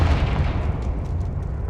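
The Confringo fire spell from Hogwarts Legacy burning an object, a loud, dense, roaring burst of fiery rumble that sustains briefly without a clear start or stop.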